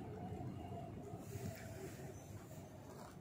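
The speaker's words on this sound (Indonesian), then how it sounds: "Ada kereta lewat. Ah, itu. Keretanya di atas." A train rumbles past on an elevated track above the street near Hogupo station in Korea, a steady, fairly loud roar with hiss that holds evenly throughout.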